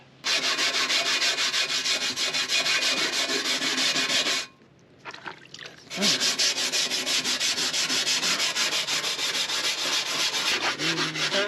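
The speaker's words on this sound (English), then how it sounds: "Let's buff this whole thing out." Buffing rust off a barn-stored 1969 Buick Wildcat, a loud steady whirring grind that runs continuously, breaks off briefly midway, then resumes at full strength, with no talking.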